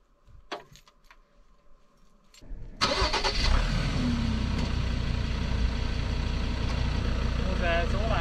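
A car without four-wheel drive, stuck in a salt lake, starts up after a few quiet knocks and faint voices. Its engine then runs and revs steadily and loudly at close range.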